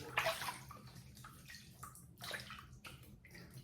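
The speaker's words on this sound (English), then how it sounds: "I'm gonna wet the face and we'll get started." Water splashing and sloshing at a sink as the face is wetted before a razor shave, a series of close, soft splashes and trickles with quiet gaps between them.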